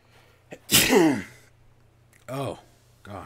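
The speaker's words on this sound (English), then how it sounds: "Oh, I need to sneeze." A single sharp human sneeze with an audible intake of breath beforehand, followed by two quieter breathy exhales or sighs, close up over faint background hum.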